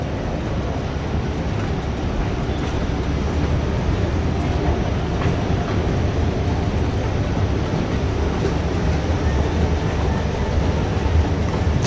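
A metro train in Doha, Qatar rumbles steadily along the rails, a continuous low roar with faint rhythmic clicks, heard from inside the carriage.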